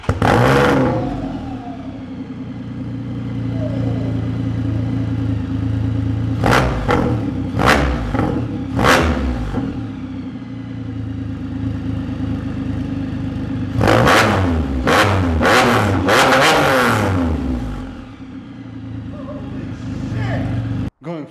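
Can-Am Spyder engine fitted with an aftermarket exhaust idles with a deep steady rumble, broken by sharp throttle blips around the middle and a cluster of revs later, recorded close up with no talking.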